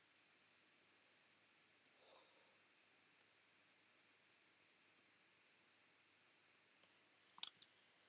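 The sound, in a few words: computer mouse clicks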